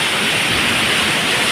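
Big sea waves breaking at Puri beach make a steady, loud broadband roar of surf, heard alone and without pause over a brief stretch.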